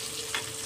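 Bengali patrui of ash gourd leaves frying in a pan over a low gas flame gives a steady, soft sizzle with a brief brighter hiss, short and close.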